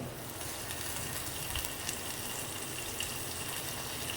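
Two small chopped onions hit a hot tempering of oil and spices for homemade dhokla, giving a steady, faint, broadband sizzle that hisses on without pause.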